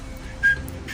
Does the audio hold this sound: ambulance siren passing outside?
no